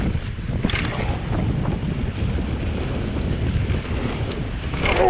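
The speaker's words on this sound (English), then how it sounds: "I have to take it a bit steady because of the wind." Strong wind buffets the microphone of a rider on a mountain bike out on a blustery, rainy ride, a continuous loud low rumble with gusts swelling toward the end and no speech.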